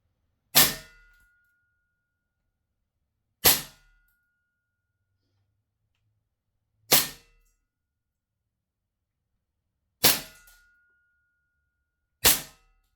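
An airsoft gun with a heated magazine fires five separate sharp, metallic blowback shots, each a loud, close crack with a quick decay, spaced a few seconds apart with silence between them.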